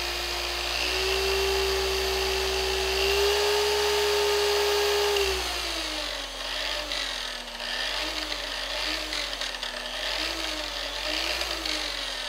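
An older Griot's Garage Boss G21 dual-action polisher runs steadily at low speed, a smooth continuous motor whine, close and alone, with the pitch dropping and wobbling slightly partway through.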